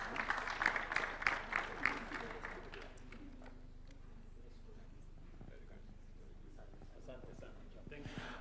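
Audience applause at a national vision event attended by President Ruto, loud clapping in the first few seconds that fades to a low murmur of the crowd.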